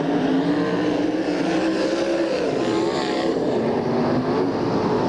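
SCRA sprint cars racing on the Bakersfield, California dirt track, a loud continuous engine roar with overlapping revving pitches from several cars at close range.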